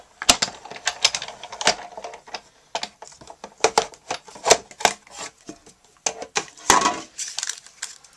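A die-cutting machine rolls a card and precision base plate through for a spider web die, making a steady series of sharp clacks and ticks over about eight seconds, fairly close and alone.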